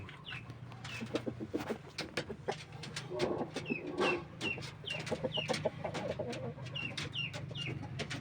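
Rhode Island Red hens of the Maximus line cluck steadily in a farmyard, with repeated short calls and overlapping bird chatter at close range; faint voices are present in the background.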